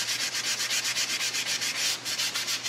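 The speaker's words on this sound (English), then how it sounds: "The sandpaper takes care of that." Sandpaper rubbing hard CA glue off a small carbide-tipped carving tool, a steady, close, rhythmic back-and-forth rasp of about a dozen even strokes with no talking.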